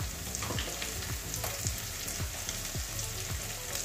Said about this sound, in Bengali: এবারে আদা রসুনের কাঁচা গন্ধ যাওয়া পর্যন্ত ভাজবো